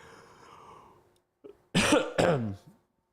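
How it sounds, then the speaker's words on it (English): A single cough with a throat-clearing quality from a person livestreaming, preceded by a short breath and a faint voice, then a sharp double burst close to the microphone before quiet. "Sorry, I didn't mean to cough right in camera"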